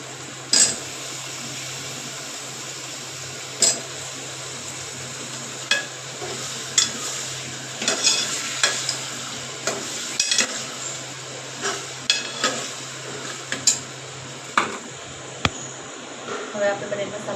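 Potatoes stirred and frying in a pan with ginger garlic paste for Gujarati khichdi, a constant sizzle broken by repeated sharp spoon scrapes and clinks against the pan.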